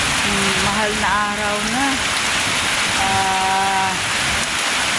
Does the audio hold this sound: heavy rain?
yes